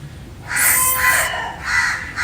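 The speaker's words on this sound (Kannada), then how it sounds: "ಕಾಕೆ ಸುಮ್ಮನಿರು ವಿಡಿಯೋ ಮಾಡುವಾಗ್ಲೇ ಕಾ ಕಾ ಕಾ ಅಂತ" A crow caws several times nearby, loud harsh calls in two clusters with a short gap between them over faint outdoor background.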